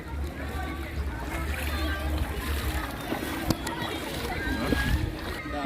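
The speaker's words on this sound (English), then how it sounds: "This is the river." Water splashes and sloshes in the White River in Jamaica during rafting, with scattered small splashes over a steady rush and faint voices in the background.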